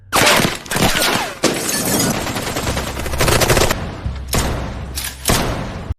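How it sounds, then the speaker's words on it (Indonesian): Loud bursts of gunfire crack through an action film scene, with repeated shots, shattering impacts and heavy thuds layered over a dense, continuous din, with a few sharp gaps between volleys. "tiba-tiba terdengar suara tembakan"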